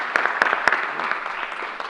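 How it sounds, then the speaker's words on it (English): A crowd at a COVID booster vaccine site launch in New York claps for healthcare workers, brief dense applause with a few sharp, close individual claps standing out. "I'm going to give you an extra round of applause for everything you've done."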